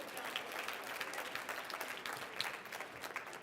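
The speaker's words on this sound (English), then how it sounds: "Come on, clap it out." A live audience claps together at a talk on emotional intelligence, a fairly faint, steady patter of many hands throughout.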